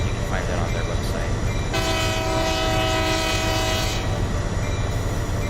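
A BNSF coal freight train rolls along in the Trainz 19 railroad simulator, its horn sounding a long steady blast over the loud continuous rumble and clatter of the cars.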